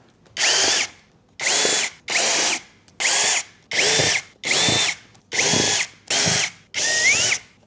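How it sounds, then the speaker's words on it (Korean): Screws are backed out of the grille on a Winia stand fan with a power driver: eight short, close whirring bursts separated by brief pauses, with no talking. "자, 이제 나사 분해 시작합니다."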